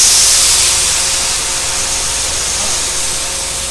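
Anhydrous ammonia sprays out of a farm field applicator as a steady, loud, broadband hiss that tapers slightly in strength, with no talking over it.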